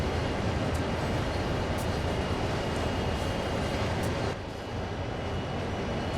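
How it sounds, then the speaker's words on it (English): In the Train Sim World game, a CSX heavy haul freight train rolls along the track with a continuous dense rumble and faint wheel clicks, steady throughout apart from a brief dip near the end. "It's pretty authentic as far as the track sound goes."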